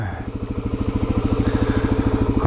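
A Suzuki DR-Z motorcycle on a snowy, icy morning commute thumps with a steady, rapid single-cylinder pulse, loud and close, gradually building in pace as it rides.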